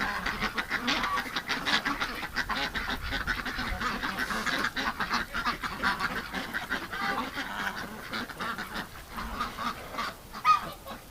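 A flock of ducks quacks and honks continuously in a snowy winter yard near a grid over deep snow, a dense busy chorus of calls heard close by with no talking.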